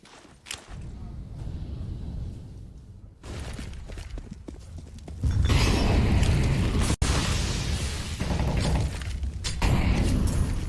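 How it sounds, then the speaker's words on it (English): Grenade blasts and heavy rumbling from a professional Counter-Strike match between FNATIC and G2 at IEM Katowice 2019 fill the clip, with a dense roaring burst in the second half, a sharp crack and scattered clatter in between. "Some nades being traded, but not really any ground being made up."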